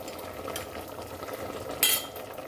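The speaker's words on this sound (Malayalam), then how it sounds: "ഒന്ന് ഇളക്കി കൊടുക്കുക" A spoon stirs pressure-cooked chicken in the cooker with a steady soft scraping and gentle sizzle, and a brief louder clatter near the end.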